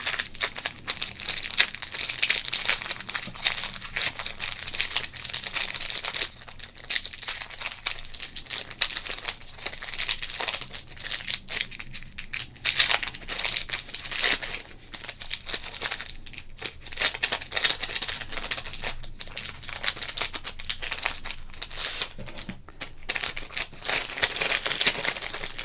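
Wrappers on 1997 football card packs crinkle and tear in close, dense bursts of crackling that continue steadily with almost no talk.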